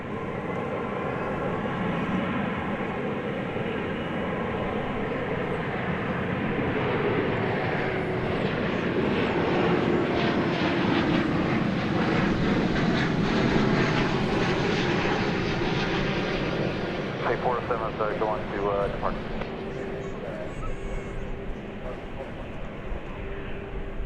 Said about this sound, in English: It's a free place to watch and listen to aircraft.